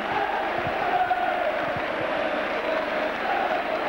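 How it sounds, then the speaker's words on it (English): Spectators at a 1994 St Helens versus Castleford rugby league match roar and applaud after a try, a sustained, dense crowd noise filling the ground. "as we wait for the applause to die down"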